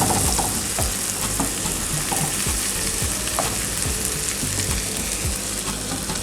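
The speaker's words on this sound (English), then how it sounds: "so I'm going to add my shrimp and saute that." Shrimp and onion sauté in a hot pan, a steady loud sizzle throughout with occasional stirring scrapes, no voices.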